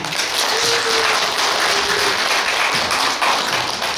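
An audience at a poetry recitation gathering claps loudly and continuously, a dense wash of hand claps that holds steady for the whole stretch with no voices over it.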